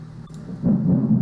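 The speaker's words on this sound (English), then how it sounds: "we just had a really big crack of thunder out the window" A big crack of thunder outside a window breaks into a low, rolling rumble that swells and holds for under a second, heard over a quieter background.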